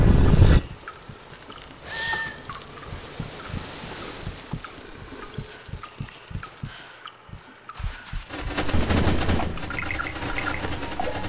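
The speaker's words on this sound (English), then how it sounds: "That sounds a laser gun." A laser rifle fires in the G-String video game, a rapid stream of pulsing electronic shots with loud bursts at the start and a heavier blast near the end over game ambience.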